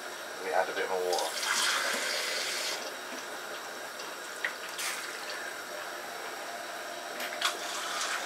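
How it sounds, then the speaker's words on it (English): Water is poured into a cooking pot for yam and nkontommire sauce, splashing and trickling in short bursts, with a fainter steady pour, against quiet background noise and a few light clinks. "let me add a bit more water"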